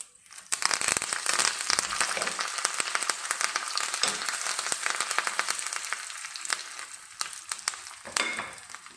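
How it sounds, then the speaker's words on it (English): Mustard seeds, red chili and curry leaves frying in hot oil for a tadka: a dense, steady crackling sizzle with sharp popping bursts, loud and close, continuing for the whole stretch with no talk. "Now I'm going to add the mustard seed into it. Red chili, curry leaves,"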